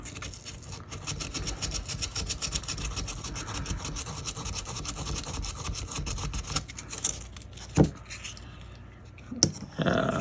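A scout knife gets hand-sanded with sandpaper, a close, rapid back-and-forth scratchy rubbing that runs steadily for several seconds and then gives way to a couple of sharp knocks, with no talk.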